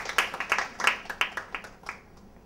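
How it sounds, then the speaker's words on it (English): A small workshop group claps for a participant at an insulin delivery device training session, a handful of sharp, close claps that thin out and fade within two seconds. "Let's have the clap for Aditi."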